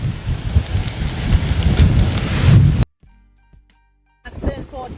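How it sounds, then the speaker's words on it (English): Hurricane Beryl's wind roars and rain pelts down in Tobago, loud and close with heavy microphone buffeting, then cuts out abruptly before a short burst of gusting returns. "it's windy, it's windy."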